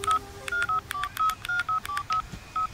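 A telephone number is keyed in as a quick run of about a dozen short, distinct keypad tones, each a clean beep separated by brief gaps, heard close and without talking.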